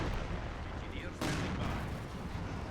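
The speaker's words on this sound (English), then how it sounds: "My Su-85 is bombarding you or something." A Su-85 tank bombards with artillery in Company of Heroes 2, heard as one sharp, loud blast midway through over a rumbling battlefield, with a brief whistling streak just before it.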